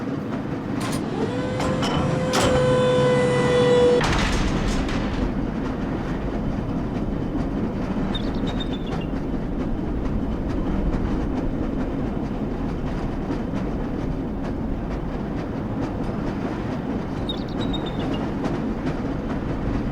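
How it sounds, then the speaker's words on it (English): Lever-controlled train from the video game Black Mesa rolls along with a steady, continuous rumble, and a brief high squeal and clatter sound near the start of the ride. "This lever-controlled train will transport you to a location where your training associates are waiting for you."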